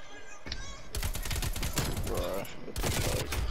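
Rapid AK rifle gunfire from a video game, delivered in dense, sustained automatic bursts that fill most of the clip, loud and close, with a brief pause before a final burst and faint voices under it.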